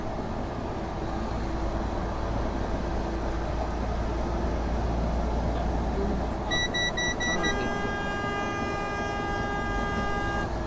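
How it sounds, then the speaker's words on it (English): A semi truck's horn honks on a busy road, entering partway through as a sustained tonal blast over constant traffic rumble and continuing to the end at moderate loudness. "There we go. That's the truck horn."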